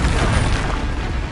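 The Flipendo spell is cast in Hogwarts Legacy, producing a dense, loud, low booming whoosh that fills the short moment evenly with no talk over it.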